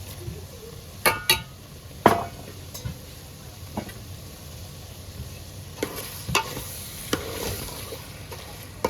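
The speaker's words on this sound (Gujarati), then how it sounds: "ટમેટું નાખીને હલાવી લીધું છે ને" Stirring tomato into falva, a snail dish, frying in a pot: soft scraping and scattered metallic clinks of a spoon against the pot over a low steady sizzle, with several sharper knocks spaced through the stretch.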